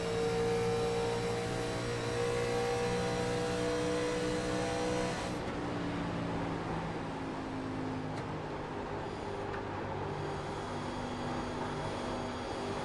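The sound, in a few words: NASCAR stock car engine heard from in-car camera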